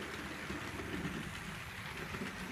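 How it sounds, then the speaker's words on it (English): Model railroad train running along its track, a faint, steady low rumble and rolling hiss with no distinct clicks, heard quietly and alone without talking. "let me run on a train, because I know everybody wants to see the trains going"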